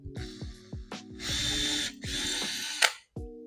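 A drill boring a small pilot hole whirs in two short bursts, separated by clicks and taps, up close with a brief sharp clatter after.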